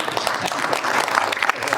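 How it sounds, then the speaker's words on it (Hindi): An audience at a Hindi kavi sammelan poetry recital in Gogunda claps, giving a short burst of lively, uneven applause from a nearby crowd. "आप ताली वाली बजाओ"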